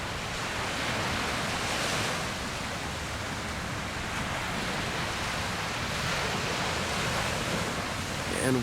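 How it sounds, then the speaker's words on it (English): Surf washes steadily onto a beach at Anna Maria Island, Florida, at sunset, a continuous broad rush of waves with some wind noise and no speech. "Oh, what a beautiful night to be at the beach."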